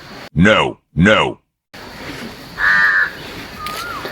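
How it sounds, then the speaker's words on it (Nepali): Two loud, harsh caws from a crow ring out close together at the start, followed by quieter distant calls and outdoor background noise, with several crows around in the open. "वहीँ छ काग, उड्दैछ। काग सर नभाग्नुहोस्। उहाँ अझै दुईवटा कागहरू छ।"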